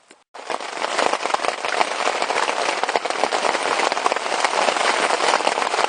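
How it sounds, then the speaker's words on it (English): A dense, continuous clatter of large hailstones pounding a surface at a carp fishing lake, loud and unbroken throughout, starting abruptly after a moment of near silence. "You can probably hear the noise, but it's hailstones."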